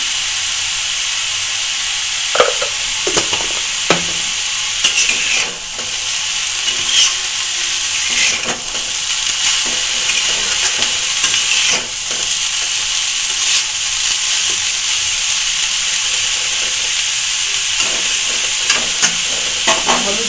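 Banana stem frying in a pan with turmeric gives a loud, steady hissing sizzle throughout, punctuated by scattered clicks and scrapes of stirring against the pan, close up and without talk.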